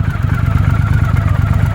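A 1983 Honda CX650 Turbo with a roughly 673cc V-twin runs at a steady, close, loud idle with a throbbing, slightly clattery pulse.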